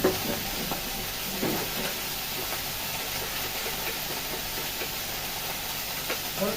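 Green beans frying in a pan with salt and a little turmeric, giving a steady, close hiss and sizzle with no talking.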